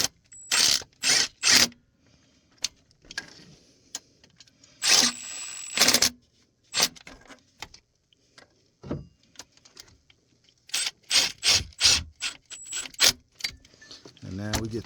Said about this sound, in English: And now we get the ratchet.